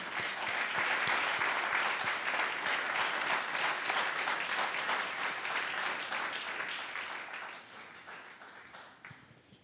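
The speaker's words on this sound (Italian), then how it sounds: "accoglieteli con un grandissimo applauso, il tenore Santa Sarbana di Silanus." A crowd applauds as a tenor choir group is welcomed onto a stage in Silanus, Sardinia: dense, sustained clapping from many hands that holds steady, then gradually tapers off toward the end.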